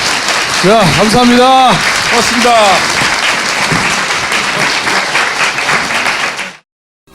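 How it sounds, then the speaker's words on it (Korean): An audience at a live talk-show recording breaks into sustained, loud applause that holds for several seconds, while someone speaks briefly over the clapping before it cuts off abruptly. "다시 한번 박수 부탁드립니다."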